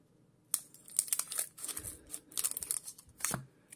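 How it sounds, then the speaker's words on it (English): Scissors cut open a foil trading card booster pack, giving a close, loud burst of crinkling and snipping with sharp crackles and a final tearing rip, no talk. "I'm gonna use scissors on this pack"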